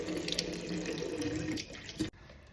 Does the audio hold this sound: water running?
yes